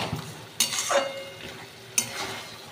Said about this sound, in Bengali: কিশমিশটা দিয়ে ভালো করে নেড়ে চেড়ে মিশিয়ে দেব।